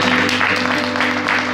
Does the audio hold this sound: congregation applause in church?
yes